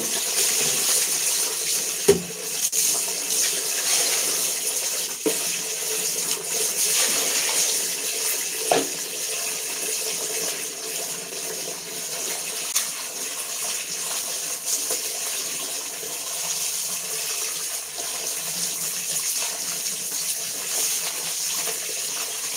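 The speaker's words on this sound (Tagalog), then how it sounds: "maingay yung tubig" Tap water runs steadily into a basin during a home laundry session in the Philippines, a continuous hissing gush with a few faint clunks and knocks near the start.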